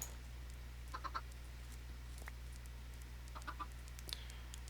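Chickens in Minecraft give short clucks in small bursts of two or three, fairly faint over a steady low hum, with no talking.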